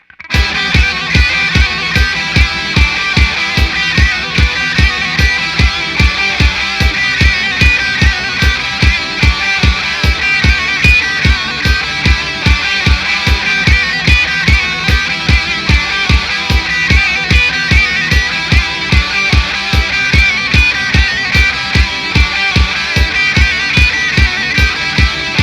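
Distorted electric guitar lead played over a driving galloping rhythm part, dense and loud with a steady pulsing beat throughout, no voices.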